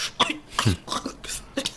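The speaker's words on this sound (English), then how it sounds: "he coughed when he took that first sip, like that first inhale" A man coughing after a first inhale of smoke in the Dark Matter TV series: several short, sharp, close coughs and throat-clearing bursts in an uneven rhythm.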